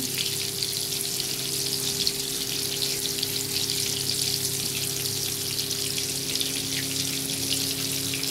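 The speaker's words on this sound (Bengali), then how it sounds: "ঝিঙেটাকে একটু ভালো করে ভেজে নিলাম" Ridge gourd pieces frying in hot oil, a dense steady crackling sizzle that runs unbroken and close throughout, with a faint low hum beneath and no voices.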